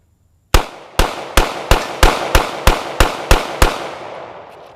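Ten sharp gunshots from a SIG P320 pistol fired with dirt packed into it, evenly spaced about a third of a second apart, loud and close, each with a short decaying tail.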